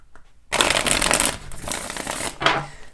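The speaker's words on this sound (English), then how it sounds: "We're going to do 3 shuffles today and see what would like to come through." Tarot cards shuffled by hand in a close, loud riffling burst that runs about two seconds, then a shorter second flurry near the end, with no voices over it.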